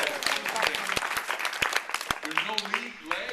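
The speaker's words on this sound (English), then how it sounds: "Give this man a round of applause." An audience at a Social Media Club Chicago talk gives a round of applause, scattered sharp claps and crowd noise running beneath continuous speech.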